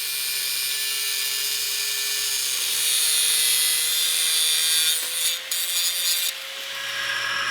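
A wide golf cart sprocket on a 420cc engine is shaved down to fit a torque converter bolt shaft, giving a steady, continuous rasping scrape that holds close and loud for several seconds without pause.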